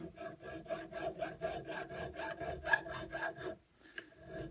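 Rhythmic rubbing and rasping from polishing the commutator of a Bosch Classixx 6 Varioperfect washing machine motor, a fairly faint, close back-and-forth scrape repeating steadily for about three and a half seconds before stopping.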